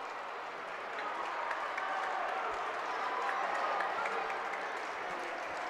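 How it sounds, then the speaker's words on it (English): Crowd applause at a Spartan basketball game against Trinity, a steady wash of clapping that rises after a quiet first second and holds through to the end under the arena's broadband noise. "A clap of approval"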